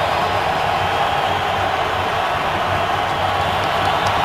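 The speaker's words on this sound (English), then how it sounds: "Carr dealing with the crowd noise as well." Stadium crowd at a Denver Broncos home game against the Oakland Raiders in 2015, a loud, dense, continuous roar of fans filling the whole clip.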